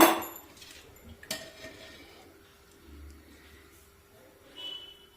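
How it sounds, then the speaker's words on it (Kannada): A wok is set down on a lit gas stove while cooking dry fish curry, giving one sharp metallic clang near the start, then faint scattered kitchen clatter in a quiet room. "ಈಗ ಸ್ಟವ್ ಹಚ್ಚಿ ಬಾಣಲಿ ಇಡ್ತಾ ಇದ್ದೀನಿ, ಎಣ್ಣೆ ಹಾಕೋಣ."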